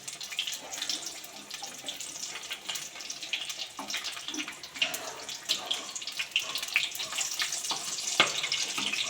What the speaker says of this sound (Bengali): দেখতে পাচ্ছেন বেগুনিটা ভাজা চলছে।